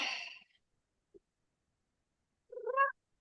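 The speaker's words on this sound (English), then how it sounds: "I said, Ava, cat has things to say." A cat meows twice: a short first call at the start, then a faint chirp, and after a pause a second, rising, tonal meow, close by in an otherwise quiet room.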